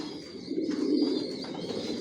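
Racer pigeons of the Johnson line coo in a loft, a low throaty rolling call that swells and fades over a couple of seconds, close by against a faint background hum.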